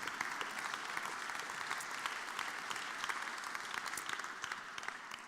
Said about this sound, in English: applaud by all means